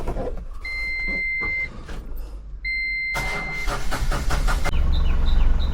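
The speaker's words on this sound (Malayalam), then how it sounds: "ഇനി വണ്ടി ഒന്ന് സ്റ്റാർട്ട് ചെയ്ത് ഞാൻ എൻജിൻ സൗണ്ടോടെ കേൾപ്പിച്ചു തരാം." An Ashok Leyland Bada Dost light truck gives a few electronic beeps, then its engine cranks and catches into a loud, rough idle close by.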